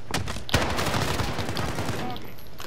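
Gunfire in Call of Duty Warzone, Rebirth Island quads match: a loud close shot followed by a rapid fusillade of automatic fire and sharp cracks over a couple of seconds, with a voice talking faintly underneath.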